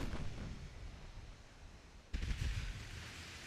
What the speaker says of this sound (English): Uh-oh, now he's shooting at me.